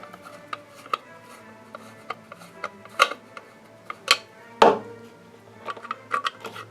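Phillips screws being undone on the rotor of an HEI distributor in a Vega 2300 engine, heard as scattered small metallic clicks and scrapes of a screwdriver, with one louder clack near the middle, close up and without talk.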